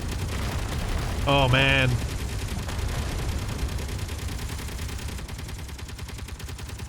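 Dense, continuous booming from turrets striking meteors in a video game, a rumbling barrage with rapid percussive bursts heard from inside a tunnel; someone briefly speaks over the noise.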